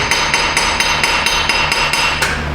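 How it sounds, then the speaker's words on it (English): A hammer taps rapidly near the knock sensor on a 2007 Chevrolet Silverado engine, about ten sharp metallic strikes in quick, even succession, close and loud. "we're gonna give it a little whack and see what happens here"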